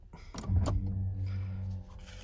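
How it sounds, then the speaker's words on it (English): Ferrari 360 F1 gearbox shifting with a sharp mechanical clunk, followed by the hydraulic F1 pump whirring steadily for about a second before fading, close up and alone. "you can hear the system changing gear. You can hear the hydraulic F1 pump running for a few seconds again"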